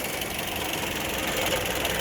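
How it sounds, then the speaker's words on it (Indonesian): Engine of a 2008 Toyota Yaris E with manual transmission running steadily at idle, a continuous even hum with a faint rhythmic knock, close and fairly loud with no talking. "untuk bagian mesin juga suaranya tidak ada yang aneh-aneh"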